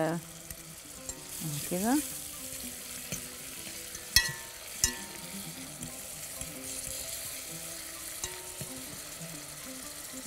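Cumin fries in a pan for koshari, giving a soft, continuous close sizzle with occasional stirring scrapes and clicks, under a brief spoken word and faint murmuring.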